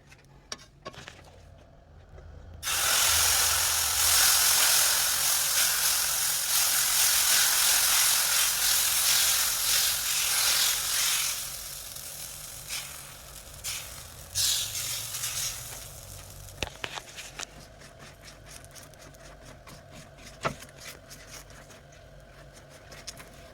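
Dosa batter hits a hot IMUSA 14-inch griddle at home with a loud, close burst of hissing sizzle that holds for several seconds, then settles into a quieter crackle dotted with small clicks and taps.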